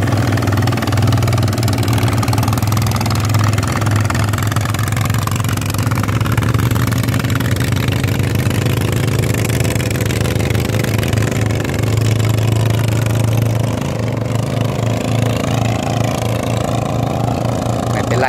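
A newly bought ZT155 engine runs steadily while trampling a wet rice paddy, its continuous loud mid-pitched drone holding throughout with a slight rise in revs partway, no voices over it.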